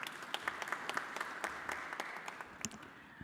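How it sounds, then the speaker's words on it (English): A conference audience at an electoral commissions' annual general meeting breaks into applause for the chairs, a dense patter of many hands clapping at moderate distance, steady throughout with no voices. "A round of applause for them,"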